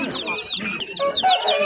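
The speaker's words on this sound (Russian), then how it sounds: "Сегодня даже на выставке вы видите квочка с цыплятами" A broody hen with her chicks clucks at an outdoor livestock fair, giving close, sharp clucks and chirps in an uneven rhythm, with faint crowd noise in the background.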